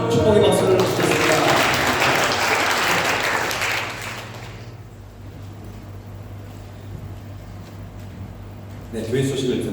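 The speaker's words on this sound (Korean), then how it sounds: "축복의 박수를 주겠습니다" Church congregation applauding during a Sunday worship service, a loud dense wash of clapping for about four seconds that then fades into a quieter hall tone, with a brief swell near the end.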